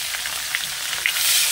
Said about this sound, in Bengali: তো এই যে চারদিকে তেলটা ছিটছে